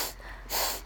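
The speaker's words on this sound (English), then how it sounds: "I'm constantly having to sniff it" A short, close sniff through a runny nose, a quick airy inhale with a second stronger snort-like draw of breath.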